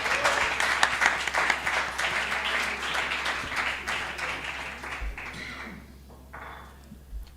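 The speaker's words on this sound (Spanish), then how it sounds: "un aplauso para Ethan" A live audience applauds for a guest named Ethan at a gaming discussion event, lively clapping that starts dense and gradually thins out and fades to a few scattered claps.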